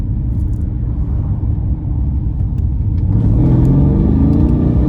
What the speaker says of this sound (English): Just tapping the gas pedal in sport mode.